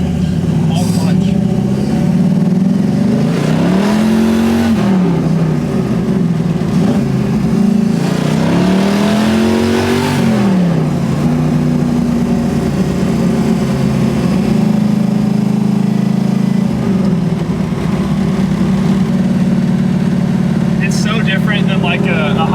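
A 1968 Camaro with a 540 cubic inch big block on radial tires pulls hard through repeated surges of rising and falling engine revs, loud and close from inside the car, while people talk over the roar.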